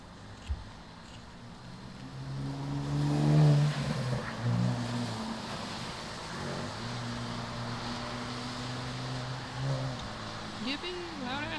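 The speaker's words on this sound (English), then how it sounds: "Yippee, loud ass car." A loud car passes by outside on a rainy night, its engine droning and rising in pitch, then fading over several seconds under the steady hiss of rain, while a person talks nearby.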